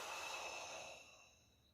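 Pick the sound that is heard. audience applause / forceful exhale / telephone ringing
forceful exhale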